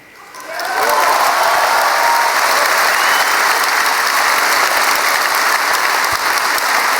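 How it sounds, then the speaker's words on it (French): An audience at a Paris political rally applauds Marion Maréchal, the clapping swelling within the first second into loud, sustained, dense applause that holds steady to the end. "Je devais vous demander d'applaudir Marion Maréchal, mais je crois que vous l'avez déjà fait."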